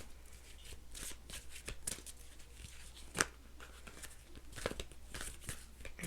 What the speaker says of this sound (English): I'm having a hard time shuffling for some reason.